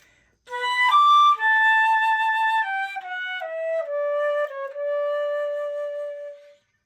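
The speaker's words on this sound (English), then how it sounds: "when I use my bell tone and I taper my sound off" A flute plays a descending run of clear sustained notes, each with a bell-tone start, and the last long note tapers off smoothly to silence. The playing is solo and close.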